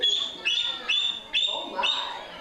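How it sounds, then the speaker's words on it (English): A 17-year-old female bald eagle at a Minnesota zoo bird show gives a series of high, thin chittering calls, about five rapid piercing notes, close and clear. "She's a 17-year-old female bald eagle with Stacy."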